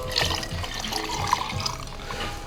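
Soda water is poured into a measuring jug for sangria, a steady fizzing, trickling stream of liquid heard close up for a couple of seconds with no talk.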